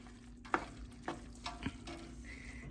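Bacon-fried cabbage stirred in a pan at a low simmer, quiet background sizzle broken by a few distinct spoon scrapes and taps.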